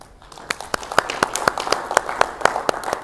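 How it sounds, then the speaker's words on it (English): Small audience at a manufacturing talk giving a round of applause, a sparse group of distinct, fairly rhythmic claps in a room, loud and close, with no talk over them. "Let's give them a round of applause."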